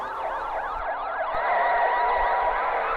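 A loud ambulance siren wails in rapid, repeating sweeps, close and continuous with no voices over it.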